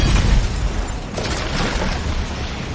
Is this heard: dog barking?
no